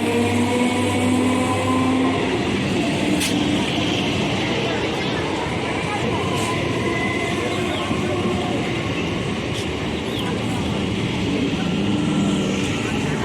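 A train at a small railway station, rumbling and clattering steadily throughout, with voices talking in the background.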